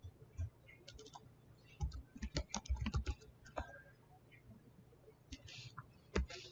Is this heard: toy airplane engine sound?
no